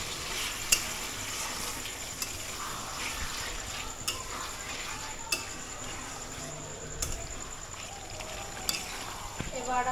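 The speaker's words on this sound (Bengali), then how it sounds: "এবার আমি ঢাকনাটা একটু তুলে একটু নাড়া দেখে নিই পিছন নিচে লেগে গেল কিনা" A spoon stirs chicken liver curry in a pan, with soft sizzling beneath and several sharp metallic clinks against the pan at intervals, fairly quiet and close.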